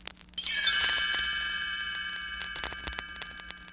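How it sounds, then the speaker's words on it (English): A bright, shimmering run of chimes struck once, ringing out and slowly fading, with a few faint clicks as it decays. "You will know it is time to turn the page when you hear the chimes ring like this."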